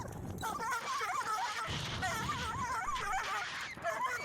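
An angry wild dog barks, yips and whimpers in a continuous, agitated string of cries, close and fairly loud, with no talking over it.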